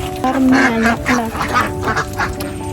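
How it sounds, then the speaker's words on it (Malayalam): Ducks on a duck farm quack loudly and repeatedly while eating, several birds calling over each other in a busy, continuous chatter close by. "താറാവുകളൊക്കെ ഫുഡ് കിട്ടിയ സന്തോഷത്തിലാണ്."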